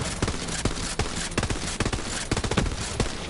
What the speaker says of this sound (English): look how fast I reload